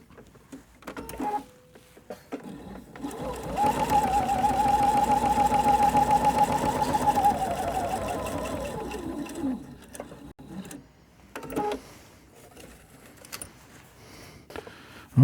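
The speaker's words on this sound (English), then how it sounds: "So now we're going to sew another seam right next to the first seam." A sewing machine stitches a seam alongside an earlier one, its motor humming steadily for a few seconds before slowing and stopping, with handling clicks and rustles before and after, and no talk.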